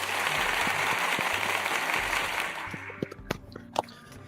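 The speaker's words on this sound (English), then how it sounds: "Nico, let's give him a round of applause." Podcast audience applause rings out in a dense, steady wash of clapping that tapers off near the end, leaving a few scattered louder claps.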